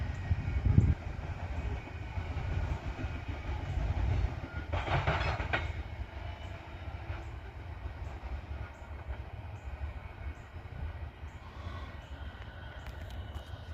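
A BNSF locomotive and its train roll past at Abbeville, a continuous rumbling rail noise with faint wheel clatter and a brief metallic burst, heard alone at moderate distance as it slows.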